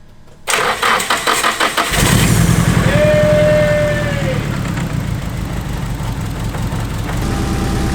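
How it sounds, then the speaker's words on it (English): A Nissan SR20 engine cranks, then catches and starts, settling into a rough, uneven idle with a misfiring cylinder; loud and close, running steadily to the end. "Oh yeah, cylinder 2 is misfiring."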